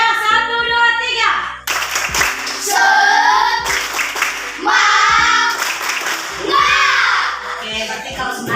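Classroom of children performing the rhythmic 'tepuk semangat' group clap: sharp patterned bursts of hand claps in quick sequences, close and loud, mixed with children's chanting voices between the claps.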